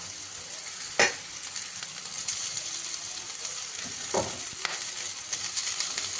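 Rice sizzles in a pan while a utensil scrapes and stirs it every few seconds, over a steady frying hiss.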